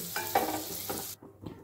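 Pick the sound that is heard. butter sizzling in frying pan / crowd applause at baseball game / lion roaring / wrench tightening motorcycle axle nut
butter sizzling in frying pan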